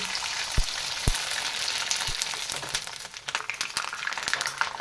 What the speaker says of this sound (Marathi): त्याच पद्धतीने मी तुम्हाला अजून दोन पापड्या तळून दाखवते